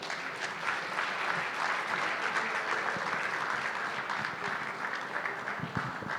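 An audience at a breakout session on sustainable rural electrification applauds, a dense steady wash of clapping from many hands that holds evenly throughout.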